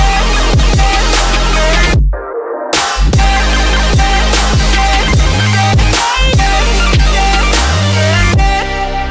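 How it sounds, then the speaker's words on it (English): The extended drop of an electronic remix pounds loud and dense, with punchy kick drums on a steady beat, thick synth chords and a brief silent break near the start before the full mix returns. "Extended drop sounds like this,"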